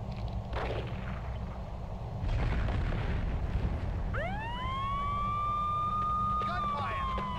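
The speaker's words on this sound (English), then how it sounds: "Gunfire!" Gunshots in the video game Max Payne 2 land as a few sharp broadband bursts amid loud game noise, followed by a police siren wailing upward and holding steady over the din.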